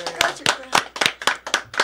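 A small studio audience on a music show claps in a quick, regular rhythm, about eight distinct sharp claps close by and fairly loud.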